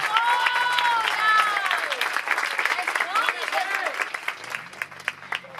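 A church congregation claps hands in worship, dense rhythmic clapping mixed with singing voices and music, loud and continuous before easing off.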